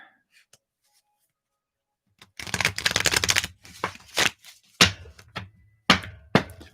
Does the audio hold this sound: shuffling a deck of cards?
yes